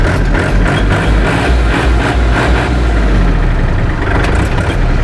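A used Kubota tractor's diesel engine with about 1,730 hours runs at a steady idle, a loud, close, rumbling drone with an even low throb and no letup.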